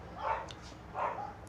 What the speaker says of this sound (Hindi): सॉरी कुछ नॉइज आ रहे हैं क्योंकि यहाँ पर कुत्ते भौंक रहे हैं।